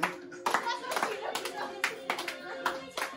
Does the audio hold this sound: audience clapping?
yes